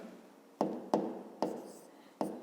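Pen strokes writing the first step of a math problem, four sharp taps as the pen meets paper followed by brief scratchy strokes, quiet and close.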